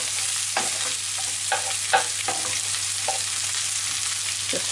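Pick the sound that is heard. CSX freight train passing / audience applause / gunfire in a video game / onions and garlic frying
onions and garlic frying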